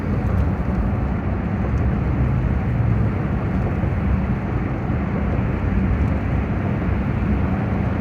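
A vehicle towing a U-Haul 5x8 single-axle trailer crosses a two-level bridge, heard as a steady, close road and wind roar with constant low rumble and no distinct events.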